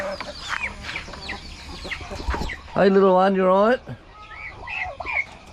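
Farm chickens cluck and call at morning feeding time on a farm in the Philippines, with one loud drawn-out squawk in the middle, while someone talks softly to the birds.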